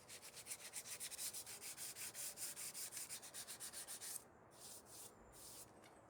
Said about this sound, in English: some final sanding was done by hand.